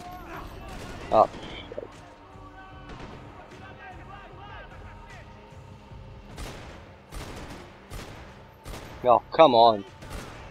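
Scattered gunshots and short bursts of fire in the shooter video game Max Payne 3, mixed with game sound effects while someone speaks and swears in frustration between the shots.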